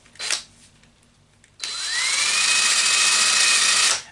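A power tool fitted with a wire brush cleans a 1952 Ferguson TO30 tractor's Continental Z129 cylinder head, spinning up with a rising whine after a brief clunk, then grinding loudly and steadily up close until it cuts off.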